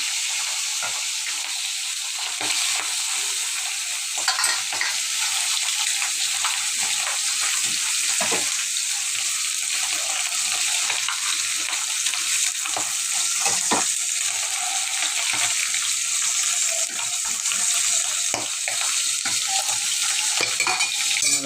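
Fish frying in a very hot pan, a steady, close hiss of sizzling oil running throughout with small scattered crackles and spatters, no voices.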